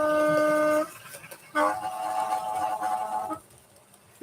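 A Thumper diesel train horn sounding in reverse gives a raspy, fart-like honk, one short blast followed by a longer, rougher one, close by, with quiet gaps between them.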